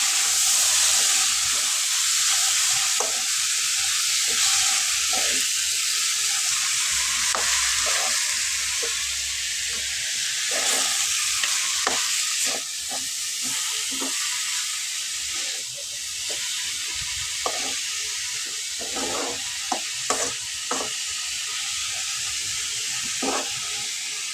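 Shredded cabbage and peas stir-fry in a pan with a steady, fairly loud sizzling hiss. Scattered scrapes and taps from a stirring spoon rise over it throughout, and no one speaks.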